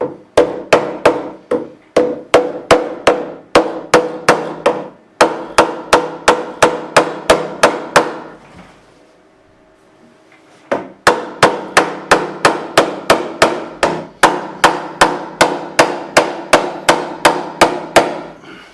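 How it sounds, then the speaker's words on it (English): Rapid, sharp metallic hammer taps in steady bursts as a fret is hammered into its slot on a 1980s Antoria EG1935 guitar, close and loud, with a brief pause in the middle before the tapping resumes. "I'll take the hammer."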